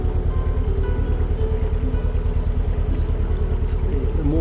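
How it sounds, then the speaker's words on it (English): A small outboard-powered catamaran coaching launch runs on the River Thames, its motor giving a steady, close, rapidly pulsing throb that continues without a break. "little outboard powered catamarans that the coaches use when they're racing up and down"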